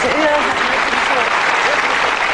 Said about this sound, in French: applaudissez le camarade